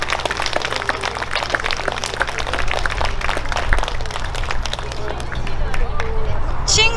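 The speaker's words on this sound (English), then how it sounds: "Big round of applause again." An audience at a Hanfu fashion show in Groveland, Florida claps in a steady, moderately loud patter of many hands, with a low hum underneath and murmuring voices.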